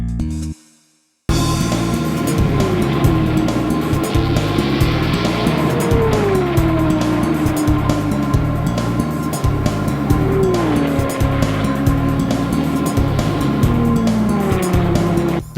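Race cars roar past with engines whining and shifting pitch, a sustained loud blend of motors and occasional tire squeal after a brief silent gap at the start.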